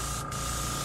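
An airbrush sprays paint onto a fishing lure in one brief, steady hiss of compressed air.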